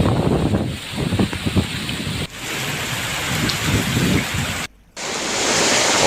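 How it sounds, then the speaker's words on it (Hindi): A strong windstorm with hail pounds the plateau areas of Jashpur district, a loud, dense, continuous roar of wind and hail hitting surfaces that cuts out briefly for a moment before surging back. "तेज आंधी और तूफान के साथ ओले गिरे।"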